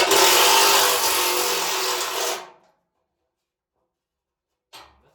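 A power drill drives screws inside a home-built personal submarine, whirring steadily at high speed for over two seconds, then stopping abruptly; after a pause, a short burst of whirring returns.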